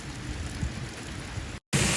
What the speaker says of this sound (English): Ooh, it's really raining and my windows are down.